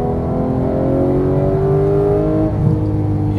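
A Porsche 911 GT3 of the 991 generation accelerates hard on a race track, its engine note rising smoothly and loudly in a continuous climbing whine heard from inside the car.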